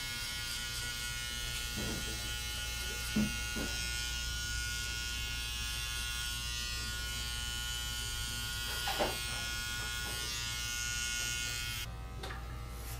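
Electric hair clippers shaving a skin fade during a haircut, a continuous close buzzing hum with faint scraping touches against the head, lasting throughout before a brief noisy change near the end.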